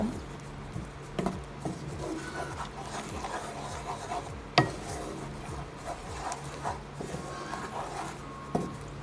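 Egg and seasoning for jerk egg fried rice are stirred in a pan over low heat, a run of soft scraping and tapping strokes with a few sharper knocks, close by and fairly quiet.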